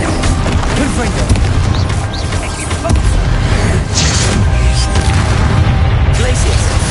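Confringo fire spell blasts in the video game Hogwarts Legacy, heavy booming bursts and crashes layered over dense, continuous game combat noise.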